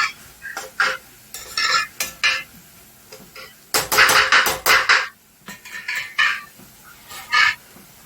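A spoon scrapes and clanks against a pan while tomato rice with fresh coriander is stirred, in a run of irregular metallic knocks and scrapes with one busier cluster midway.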